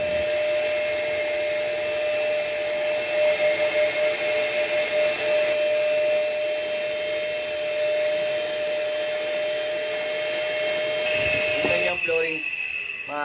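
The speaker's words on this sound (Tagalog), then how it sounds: "So ito, mag-vacuum tayo." A vacuum cleaner runs loudly and steadily while clearing dust off a floor being prepared for waterproofing, a constant whining roar that cuts off abruptly near the end.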